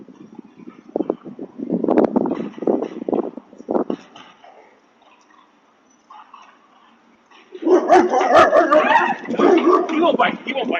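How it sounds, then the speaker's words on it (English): A dog barks and yips in sharp bursts in the first few seconds, then goes quiet before a louder stretch of barking and commotion returns, with people talking throughout. "He won't bite you. He just barks."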